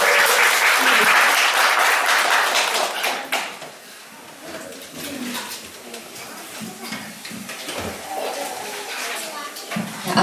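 A studio audience at a Korean talk-and-music show claps loudly and warmly for about three seconds before a song, then the applause thins out into scattered claps and quiet shuffling.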